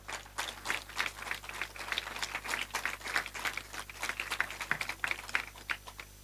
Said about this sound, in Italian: Quindi ringraziamo Beniamino De Idda, vi chiederei di fargli un applauso per questa serata.